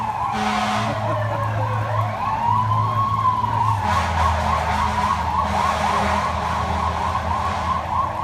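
A fire engine's wailing siren sweeps up and down close by as it passes, with a second siren layered in and engine rumble from passing traffic.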